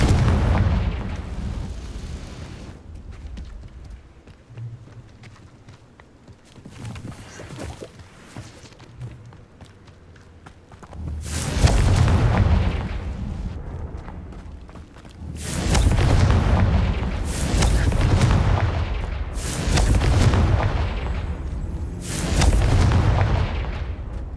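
Confringo fire spell explosions in Hogwarts Legacy, a series of loud booming blasts with rumbling tails, several arriving in rapid clusters after quieter stretches of low rumble.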